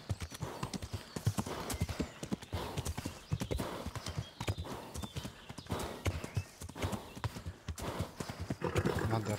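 A horse's hooves clip-clop in rapid, uneven beats in Kingdom Come: Deliverance, close and fairly loud, with a brief whinny among the steps.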